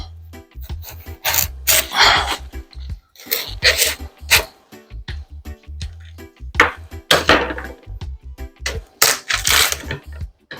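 A knife cutting through a watermelon, bursts of wet crunching and rasping strokes separated by short pauses, close and fairly loud, with no talk.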